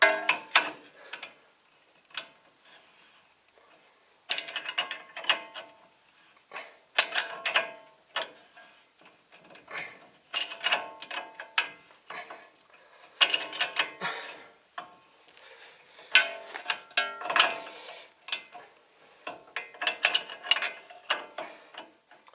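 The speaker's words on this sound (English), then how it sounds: "we're going to put a little 10mm socket on the bottom while we tighten it up with our 21mm wrench" A 21mm wrench tightens the upper ball joint nut on a 2006 Dodge Dakota while a 10mm socket holds the stud. Quiet bursts of ratcheting clicks come in irregular spurts with short pauses, and no one talks.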